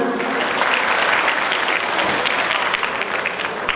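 An audience at a Punjab gathering claps to honour the state's first woman ambulance driver, a dense, steady burst of applause held at even loudness for a few seconds.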